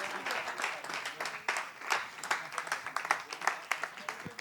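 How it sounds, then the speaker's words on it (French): An audience at a summer festival show applauds the competing teams, with scattered, uneven hand claps, some sharp and close, and bits of voices mixed in. "Applaudissez pour vos équipes, s'il vous plaît."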